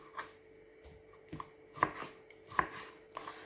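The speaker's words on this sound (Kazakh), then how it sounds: "Осылай барлық огурцемізді турап шығамыз." A knife chops cucumbers on a board with about six distinct, fairly quiet thuds at an uneven, unhurried rhythm, heard alone.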